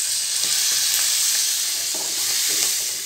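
Spices, pepper powder, vinegar and soy sauce sizzle loudly and steadily in a pan for homemade egg noodles, with faint scraping stir strokes underneath the continuous frying hiss.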